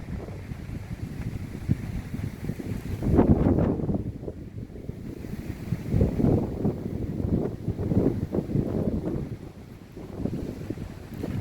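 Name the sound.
wind blowing in a pine forest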